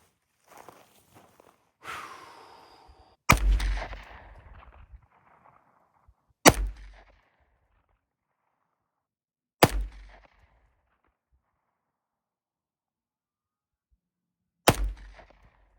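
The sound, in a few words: rifle shots with accurate number 9 ammo at 400 yards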